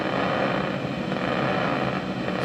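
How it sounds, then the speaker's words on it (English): Electrical activity of a single brain cell fed to a loudspeaker gives a steady, dense crackling hiss with tiny rapid pops, continuous and fairly loud throughout, with no talking. "And this is how it sounds if you connect the electrical activity of this cell"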